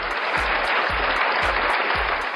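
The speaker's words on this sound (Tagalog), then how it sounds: "Sobrang dami ng palakpak." Applause at a lively celebratory show, steady dense clapping throughout with regular low thumps underneath, like a beat, filling the short stretch.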